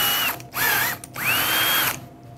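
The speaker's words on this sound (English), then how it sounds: "So I'm going to drill from the back forward." A power drill bores through the back of a metal snack machine to cut a large hole. Three loud whining bursts rise and hold, the last one longest, with short pauses between them and no talking.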